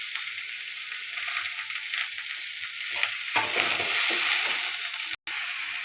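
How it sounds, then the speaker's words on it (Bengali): Potatoes frying in a pan with a little salt, a steady close sizzle that runs without pause, with a louder crackling swell partway through and faint stirring. "দিয়ে আলুটা ভেজে নেব।"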